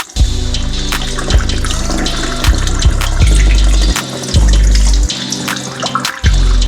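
Stop bath liquid is poured into a LAB BOX film developing tank in a steady, loud, gurgling stream, with brief shifts in flow and a few knocks of the container.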